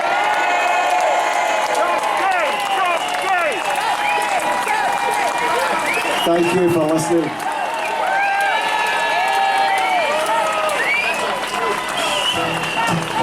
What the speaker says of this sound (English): Give a big cheer to my Uncle Shug.